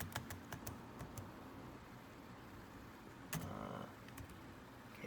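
Keys clack on the keyboard of an ASUS Eee PC 1005-HAB netbook with several faulty letter keys, a quick burst of separate taps at first, then a few more isolated presses later, close and fairly quiet.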